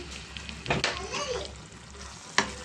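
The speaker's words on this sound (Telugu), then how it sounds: "ఈ టమాటా కూడా కొంచెం పసుపు వాసన పోయేదాకా మనం ఫ్రై చేద్దామండి" Tomatoes fry in a pan with chili powder and coriander for a fish curry, giving a steady soft sizzle broken by a few scraping stirs of a spoon against the pan.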